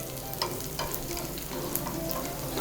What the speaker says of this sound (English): So my onions are caramelized and it's giving a good color, lightly pink color.